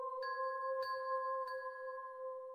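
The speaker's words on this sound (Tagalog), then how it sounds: "Pahiga pa lang ako sa kama nang biglang may nag-doorbell sa gate." A doorbell rings at a gate with three bright, sustained electronic ding tones spaced evenly over a couple of seconds, clear and alone.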